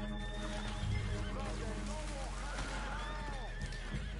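A horse in a video game whinnies in long, wavering neighs amid clip-clopping hooves and steady game background sound, with people talking over it.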